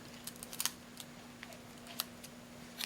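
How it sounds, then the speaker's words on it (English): Scissors snipping blue yarn, a few sharp, quiet clicks spaced irregularly over a faint steady hum in a quiet room. "So I'm just going to cut till I run out of blue yarn."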